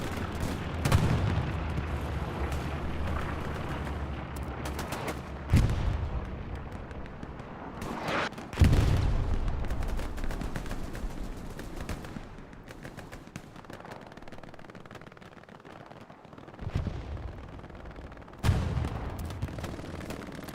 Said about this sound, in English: Artillery battery holding strong.